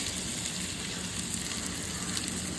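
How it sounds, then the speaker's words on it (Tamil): A ground paste of green chili, coconut, ginger, coriander and curry leaves, with amla added, fries in a hot pan with an even, continuous close sizzle and no breaks. "அதை இந்த கலவையை போட்டு நல்லா பச்சை வாடை போகிற வரைக்கும் வாட்டுங்க"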